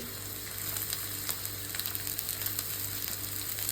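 Cabbage, carrot, beans and green chilies fry in a hot pan for restaurant-style egg fried rice, a dense continuous sizzle with soft intermittent crackles and steady stirring, close up with no voices.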